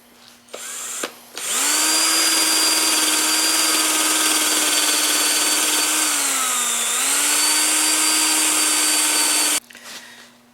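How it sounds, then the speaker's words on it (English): A wire brush spun by a power drill scours rust from bolt threads: a loud, steady, high-pitched whine holds for about eight seconds, sags briefly as the motor slows under load, then recovers before cutting off. "this is basically what the bolt looks like after I've given it a quickie, 5-minute treatment on a wire brush attached to a drill"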